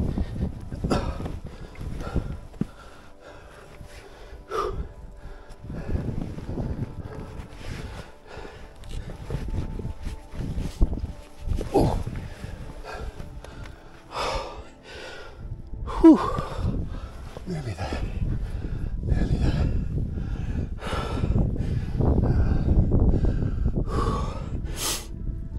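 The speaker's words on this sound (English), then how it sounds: "Heavy breathing here, I do apologise." Heavy, effortful breathing from a hiker scrambling up the exposed Crib Goch ridge via the North Ridge in Snowdonia, close and uneven, with gasps and snorts mixed with wind and handling noise, growing denser toward the end.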